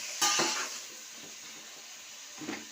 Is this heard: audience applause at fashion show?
no